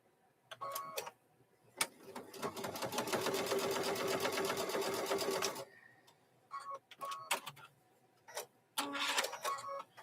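A sewing machine stitches across a fabric corner in one sustained burst of rapid, even needle chatter lasting a few seconds, framed by scattered clicks and knocks of handling before and after.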